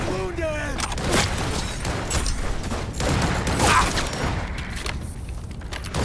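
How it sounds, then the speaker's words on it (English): Gunfire rattles through a firefight in the video game Cyberpunk 2077, with bursts, booms and thuds layered over a busy, continuous mix of game sound and voices. "People still shooting at me."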